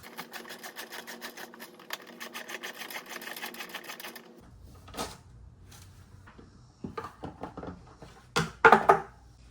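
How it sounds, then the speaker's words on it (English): A socket wrench with a 10 mm socket removes license plate bolts on a Toyota Tacoma. Rapid ratcheting clicks run for about four seconds, then scattered clanks and knocks follow as parts are handled nearby. "take your 10 mil socket and get that thing off."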